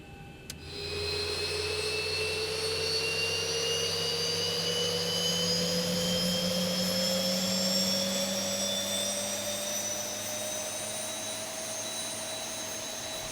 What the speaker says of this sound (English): so now we can go ahead and start the engines up as we are pushing back now from the gate